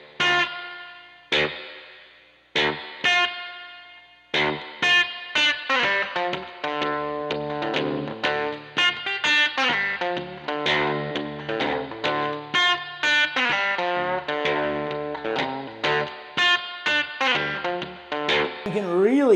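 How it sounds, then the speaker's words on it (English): Electric guitar played through a reverb effect, with no delay or echo, strumming and picking short phrases; each stop leaves the notes ringing out and decaying in a wash of reverb, with a bright, slightly distorted tone throughout. "Like anytime you stop, you can hear that reverb kick."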